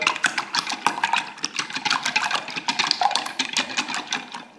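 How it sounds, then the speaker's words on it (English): Five eggs are whisked in a large jug, a fast continuous rhythmic clatter of the whisk against the jug sides, close and busy throughout with no talk. "So I've cracked the 5 eggs into a large jug. Use a large jug or a bowl. I'm just going to whisk these up."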